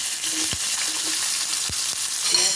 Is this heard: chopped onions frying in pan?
yes